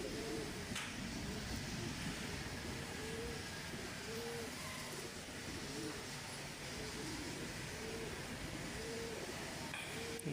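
Teddy pigeons with prized eye markings coo in a loft at dusk, soft repeated rolling coos in a steady rhythm set against a dense, constant background rumble.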